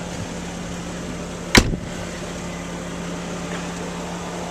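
A car engine idles with a steady, even low hum, broken once by a single sharp click partway through.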